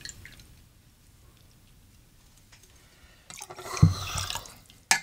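Sweet and sour mix poured from a bottle for a rum keg cocktail, starting after a few quiet seconds as a short splashing gush of liquid, followed by a brief clatter at the end.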